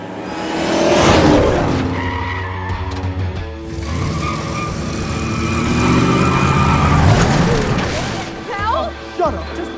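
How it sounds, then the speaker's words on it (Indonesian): A car skids with squealing tires as it nearly hits a pedestrian at night, a loud screech rising amid dramatic music and shouted voices. "tiba-tiba sebuah mobil hendak menabrak dirinya"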